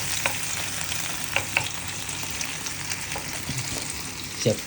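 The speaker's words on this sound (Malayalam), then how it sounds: "എണ്ണ തെറിപ്പിക്കുന്നു" Raisins, cashews and banana fry in hot oil with a continuous sizzling hiss, punctuated by scattered pops and spatters and occasional stirring clatter.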